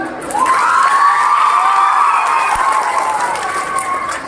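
A live comedy show audience cheers loudly, with shouting and whooping voices forming a continuous roar and some clapping mixed in.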